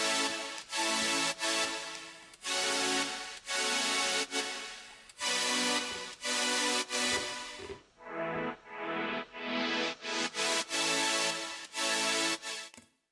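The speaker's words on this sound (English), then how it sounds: "I started to create my chords, which are the supersaws." Layered supersaw synth chords from Serum in a future bass style pulse in rhythmic bursts with short gaps, bright and wide, then switch to quicker choppy stabs near the end, with no one speaking.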